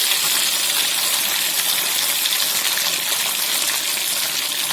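Loud, hissing, crackling sizzle of mushrooms deep frying in hot oil for mushroom 65, steady and close throughout with no voices.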